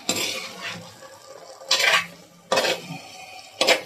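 A utensil scrapes and stirs a sardine stir-fry in a pan in a few distinct strokes over a soft background sizzle, close and moderately quiet, with no talk.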